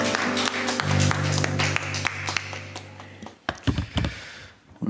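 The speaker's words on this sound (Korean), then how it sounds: "하나님께 감사의 박수 올려드리십시다" Church congregation applauds after a prayer while an organ or keyboard chord sustains underneath; the clapping is loose and scattered, fading toward the end into a few isolated claps.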